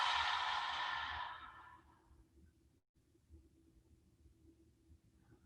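A long, breathy exhale during a guided stretch, loud and close at the start, then fading out over about a second and a half into quiet room hum.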